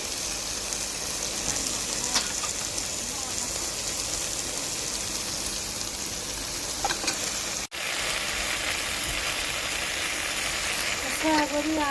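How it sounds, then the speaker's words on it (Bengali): Spices and soya chunks frying in a pan, a steady dense sizzle like rain with occasional stirring scrapes, continuous and fairly loud throughout. "মশলা কষানো হয়ে গেছে এখন আমি স্ট্রবেরিগুলো দিয়ে দেবো সোয়া বড়ি আমি একসাথে দিয়ে দিলাম"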